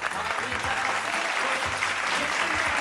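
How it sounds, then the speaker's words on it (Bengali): A studio audience on a family game show breaks into loud, dense applause that stays steady for the whole stretch, with clapping close and filling the room and a few voices faintly mixed in underneath. "জোরে একটা হাততালি"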